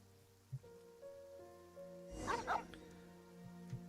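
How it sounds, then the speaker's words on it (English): A dog barks at a cemetery in Genshin Impact: a few short, fairly distant woofs with a louder burst midway, over a steady game soundtrack. "Why the barking at the cemetery?"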